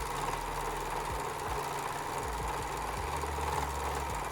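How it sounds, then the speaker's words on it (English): Serger machine stitching together the three layers of a quilt, front, back and batting, giving a steady close mechanical whir with a rapid rhythmic needle chatter running throughout, alone without speech. "I had to serge all of the layers together so that the pieces didn't fall apart"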